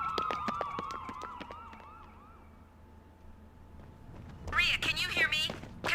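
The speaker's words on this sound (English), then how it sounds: "Ambulances. Tons of them." Several ambulance sirens wail in the video game Trauma Team, sweeping tones that fade out over a few seconds before a burst of layered siren sound returns near the end, with voices talking.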